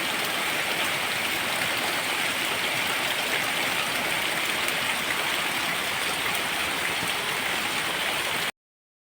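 A river rushes past a forest during very heavy rain, a dense, steady roar of water and downpour that fills the scene without pause and cuts off abruptly at the end.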